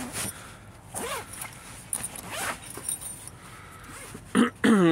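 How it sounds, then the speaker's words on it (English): A zipper on a new sleeping bag is pulled open in several short rasping bursts, close to the microphone, with a louder final pull at the end and no talking. "Try to open up this zipper here."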